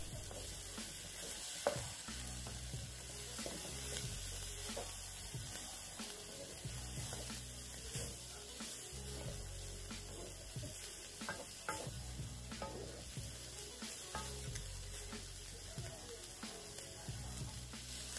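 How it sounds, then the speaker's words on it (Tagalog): Chicken bopis of organ meats is stirred with soy sauce in a pan, a steady soft sizzle broken by repeated scraping and clinking strokes of the utensil, with no talking. "Haluin natin itong mabuti para kumapit ang kulay at lasa nito sa ating organ meats."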